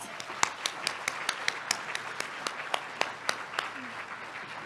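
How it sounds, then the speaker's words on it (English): Sparse, distinct handclaps ring out at an awards celebration as an audience applauds the musicians, a thin scattering of individual claps at a moderate distance rather than a full ovation. "Let's give another round of applause for the wonderful musicians."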